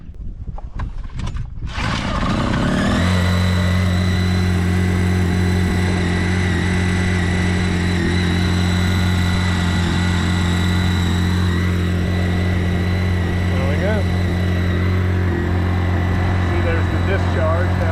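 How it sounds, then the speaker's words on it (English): A boat motor runs steadily to pump pickling solution through a watermaker's membranes and hoses, a loud continuous droning hum that starts after a couple of seconds of clatter and holds for the rest. "We'll start the motor back up, which will pump it through the membranes and all through the hoses."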